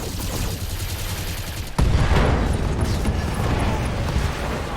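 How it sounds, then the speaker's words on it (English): Machine gun fire hammers a mech in the Battletech video game, a dense continuous roar of rapid shots and impacts that jumps louder partway through and keeps going to the end, with no voices. "Now he's gonna take an undue and wholly unpleasant amount of machine gun fire in the back"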